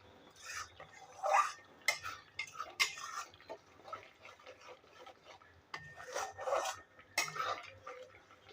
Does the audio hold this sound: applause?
no